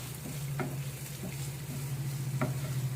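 Curry leaves, green chillies and asafoetida powder sizzle in a hot pan of oil as a spoon stirs them, giving a steady close crackle with a few sharper scraping strokes.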